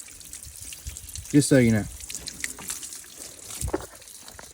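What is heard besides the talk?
water draining from Jeep Wrangler heater core during flush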